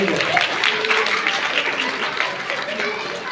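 Audience applause at a magic show: a dense, steady burst of many hands clapping together for the whole stretch, fairly loud and close, with voices mixed in underneath.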